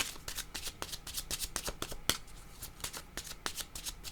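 Oracle cards being shuffled by hand, a quick run of crisp riffling flicks and slaps repeating in an even rhythm, close up and moderately quiet, with no voices.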